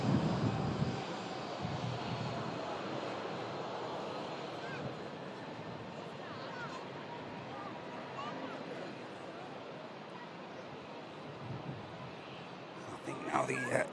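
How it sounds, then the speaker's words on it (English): EasyJet Airbus A320neo airliner bound for Dalaman beginning its takeoff roll at Manchester Airport, a steady broadband engine roar heard from a distance that holds level throughout and swells slightly near the end. "I think now the EasyJet for Dalaman is on the roll"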